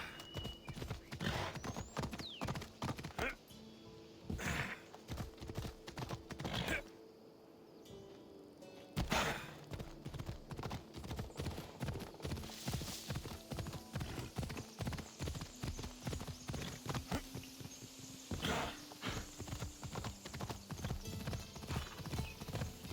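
Rapid galloping hoofbeats of a horse pound steadily and loudly in Assassin's Creed Odyssey, briefly easing off partway through before the fast rhythm resumes.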